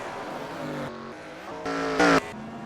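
Race cars from the NASCAR Racing 2003 sim at Watkins Glen run along pit lane, a steady layered engine drone with harmonic whine that swells louder near the end, some cars scraping the inside pit wall.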